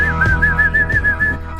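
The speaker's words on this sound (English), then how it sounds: "We're just whistling all before the show" A person whistles a short, clear, steady tune up close, a wavering high note sliding through a few pitches, with no talking over it.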